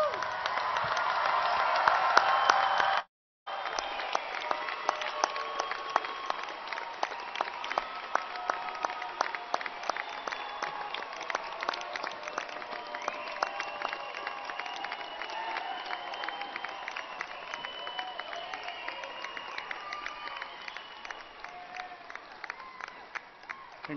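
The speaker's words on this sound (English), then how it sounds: "And please honor these graduates with a round of applause" A large commencement crowd applauds the Angelo State University class of 2021 graduates, steady dense clapping with some cheering sustained for over twenty seconds after a brief break, gradually easing toward the end.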